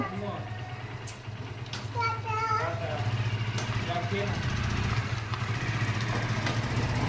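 A motorcycle engine idles and rumbles steadily nearby, with a voice and adult chatter over it.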